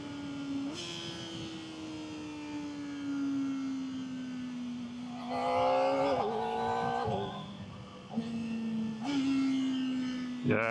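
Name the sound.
Kawasaki sport motorcycle engine shifting gears with quick shifter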